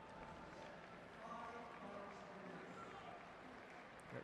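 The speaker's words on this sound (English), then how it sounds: "Acknowledges the applause of this crowd" Velodrome crowd applauding a cyclist after his 1km time trial at the London 2012 Paralympic Games, a steady dense wash of clapping and cheering that holds at an even level throughout.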